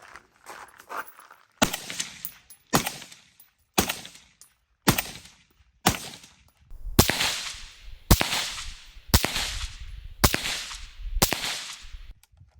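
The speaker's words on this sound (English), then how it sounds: "There's 5 rounds of the Scar 16S suppressed with an OSS suppressor." A Scar 16S rifle fitted with an OSS suppressor fires sharp, whip-like cracks at regular intervals. A few fainter shots come at first, then a steady run of loud reports.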